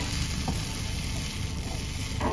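Ladle of batter frying in a hot pan for small snack cakes, giving a steady, close, even sizzle that holds throughout with faint stirring scrapes and no talking.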